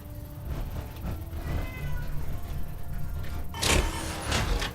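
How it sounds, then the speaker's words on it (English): A cat meowing inside the Fallout 4 video game, several soft, drawn-out mews over a low ambient hum, followed by a brief louder burst near the end. "you have a cute kitty"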